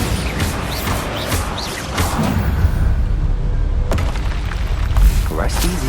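Bombarda spell blasts in the Hogwarts Legacy video game, several booming explosions and crashes in quick succession amid combat noise, loud and close throughout, with a voice speaking briefly.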